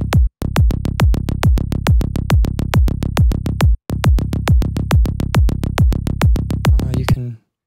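Psytrance bass synth patch built in Serum, played without its extra steep high-pass EQ at 59 Hz: a loud, rapid, even run of punchy plucked bass notes, briefly broken once, with a rolling rhythm and a short decaying tail at the end.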